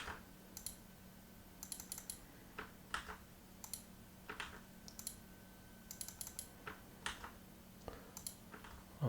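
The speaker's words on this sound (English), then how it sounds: "I'm just double clicking," Rapid mouse clicks and keyboard shortcut taps at a computer while copying and pasting entries between database tables, quiet irregular clusters of sharp clicks over a faint steady hum, with no speech.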